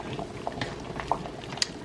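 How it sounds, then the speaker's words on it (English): Water bubbling at a rolling boil in a pot for lasagna noodles, a constant low rumble with scattered pops and gurgles, fairly close and steady throughout. "now that our water is at a boil"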